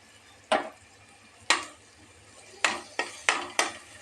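Salted eggplant spiced with turmeric and chili powder tipped into fried onions in a kadai, heard as five sharp metallic clanks of a spoon against the pan, spaced unevenly, over a faint low hum.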